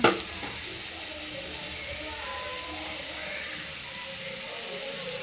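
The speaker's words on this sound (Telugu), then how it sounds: "మునక్కాడలు వేశాక లైట్గా అలా కలబెట్టాలి." Drumsticks being lightly stirred into a simmering curry in a pan, a steady soft sizzle and hiss running throughout with faint scraping, after a brief louder clatter at the start.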